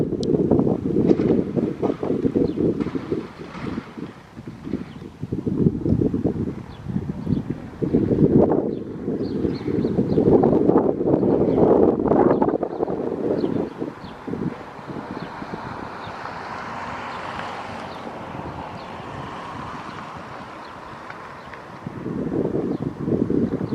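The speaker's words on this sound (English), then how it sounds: "It's a little windy today." Strong gusty wind buffets the microphone, with loud low rumbling bursts that rise and fall, easing off midway before gusting again.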